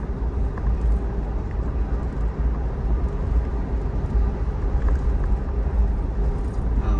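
Steady low engine and road rumble inside a 2025 Suzuki Jimny 4x4 with automatic transmission, cruising at 80 km/h around 2,500 RPM, a constant loud drone with tire and wind noise and no talk.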